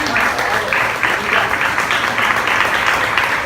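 Church congregation applauding during a service, a dense, steady wash of clapping with a faint rhythmic pulse, loud and continuous from start to finish.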